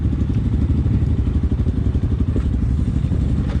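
A Honda motorcycle engine runs loud and close, a continuous rough low rumble with a fast pulsing beat and no clear change in revs.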